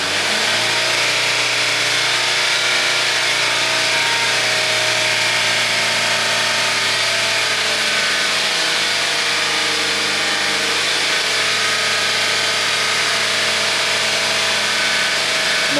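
A 2005 Honda CR-V engine held steady at 3000 RPM, a loud, constant mid-pitched drone with even tone and no changes in speed, close by and with no talking.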